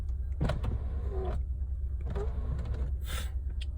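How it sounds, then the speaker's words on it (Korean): A small electric power seat motor whirs in short bursts inside a Hyundai Equus limousine, starting and stopping a few times at close range. "뒷자리도 뭐 전동 시트 물론 들어가 있습니다"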